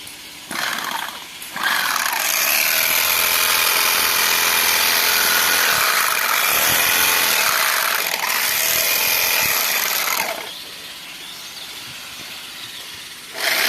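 An electric machine sews a woven geo bag, giving a loud continuous buzzing hum with a steady mechanical rattle that runs for about eight seconds before easing off.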